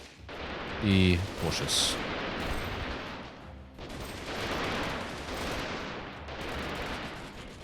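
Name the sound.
gunfire in video game Freeman Guerrilla Warfare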